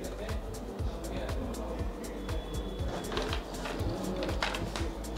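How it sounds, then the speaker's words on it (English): Six-fan Dyazo laptop cooling pad running at a raised speed, giving a steady, close-miked whirring rush of air with scattered light clicks and handling knocks throughout. "you can hear the fans working right now."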